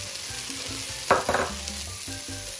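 Carrots, red and green bell peppers and other vegetables for a seafood paella sizzle steadily in a pan, with a brief louder burst of frying as more go in, then a lower constant hiss.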